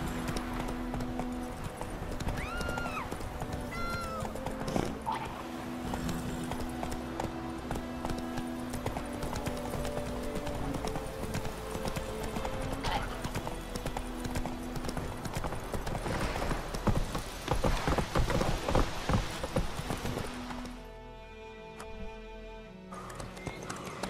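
Roach, a horse in The Witcher 3 video game, trots with steady clip-clopping hooves and an occasional whinny, set against busy game ambience and music, until the sound thins out near the end.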